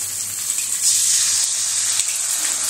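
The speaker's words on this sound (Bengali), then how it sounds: "তেলটা গরম হয়ে গেছে। এবার আমি এর মধ্যে ডিমটা ফাটিয়ে দিয়ে দিচ্ছি।" Egg frying in hot oil in a pan, a steady loud sizzle with a hissy, crackling texture that swells briefly and holds continuously throughout, no voices.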